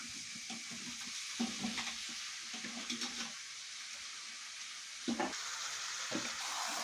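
Chicken frying with spices in a pan while being stirred and mixed, producing a faint steady sizzle broken by intermittent soft scraping strokes.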